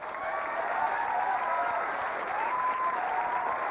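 A studio audience on a late-night talk show claps steadily, a dense, sustained wash of applause from start to finish with no voices standing out.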